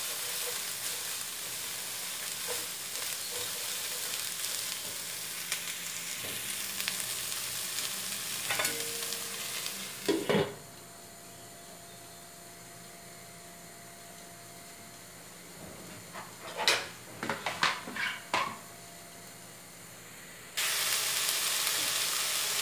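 Shredded cabbage sautéing in a pan for a creamy cabbage and corn dish, giving a steady loud sizzle for about ten seconds. Quieter scraping and stirring follows, then the sizzle returns abruptly near the end.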